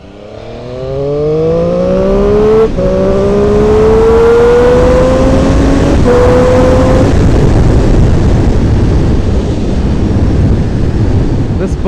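A 2017 Triumph Street Triple R 765 motorcycle accelerates hard through the gears, its loud engine note rising in pitch, dropping briefly at each of two shifts, then climbing again into a sustained roar with wind noise.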